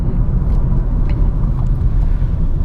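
Engine of a Honda Civic Touring with a CVT, a steady low rumble with revs held slightly raised while coasting on engine braking, continuous and fairly loud with no talk.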